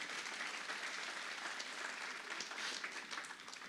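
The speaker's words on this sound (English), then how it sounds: "Please everyone give a round of applause for Aatharshi's accompaniment" An audience applauds at a veena arangetram, a Carnatic music debut recital, with dense, continuous clapping that stays at a moderate distance for the whole stretch.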